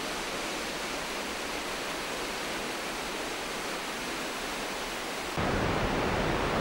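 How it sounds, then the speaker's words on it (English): A large waterfall in Huanglong Nature Reserve near Chengdu sends up a steady, loud, roaring rush of water with no break. It grows slightly brighter and louder near the end, and no one speaks. "You can hear the roar of the water long before you see it"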